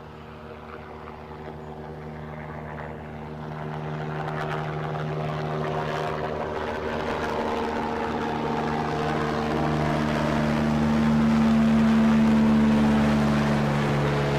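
An Aer Lingus airliner flies overhead at Newcastle airport, its engines a steady droning roar that builds gradually from moderate to loud over the whole stretch, with a sustained tonal whine and no talking.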